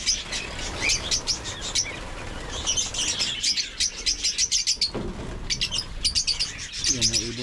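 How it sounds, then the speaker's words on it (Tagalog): Birds chirp and tweet in a backyard that also holds goats, with repeated bright calls in bursts throughout and occasional wing flaps, moderately close, against a low background hum. "Yan ang ibon natin."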